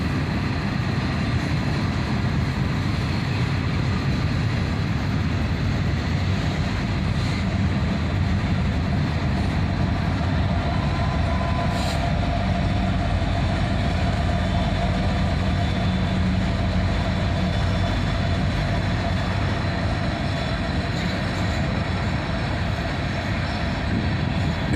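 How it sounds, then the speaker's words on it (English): A CSX autorack freight train rolls past with an SD70ACe distributed-power locomotive pushing at the rear, giving a steady, loud rumble of engine drone and wheels on rail that holds for the full stretch, with no voices. "And there it goes, an SD70 ACC, helping push this train along."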